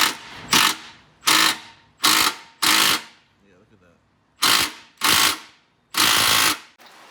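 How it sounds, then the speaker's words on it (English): Ratchet wrench tightening a bolt on a wrecked 2005 Subaru WRX STI under rebuild: seven loud, close bursts of rapid clicking, each about half a second long, separated by short pauses. "hopefully when I tighten it, you'll see in a second"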